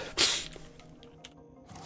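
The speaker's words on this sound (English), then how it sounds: "Oh god, sorry, I'm sneezing." A single sharp sneeze near the start, close and loud, followed by quiet breathing and faint background hum with a small click at the end.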